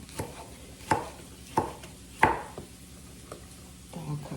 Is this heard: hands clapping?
no